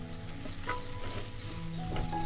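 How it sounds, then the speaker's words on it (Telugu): Spice paste of turmeric, salt, chilli powder and ground coriander-cumin sizzles and crackles in a pan while being stirred, a continuous moderate frying hiss with occasional scraping strokes. "బాగా వేయించుకోవాలి."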